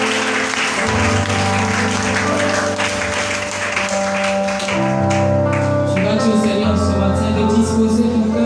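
A church congregation applauds and acclaims the Lord with steady, loud clapping. The clapping runs together with sustained music and voices throughout.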